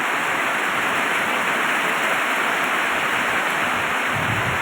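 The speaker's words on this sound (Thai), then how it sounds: "ฝนตกฝนตก" Heavy rain pours down in a steady, dense roar that stays loud and unbroken throughout, with no voices.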